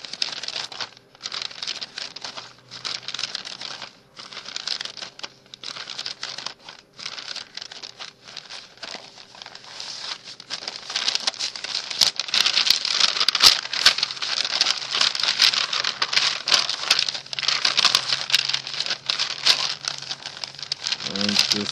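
Coffee-dyed paper, stiff like parchment, is crinkled and handled close by in irregular bursts of crackling that grow denser and louder in the second half.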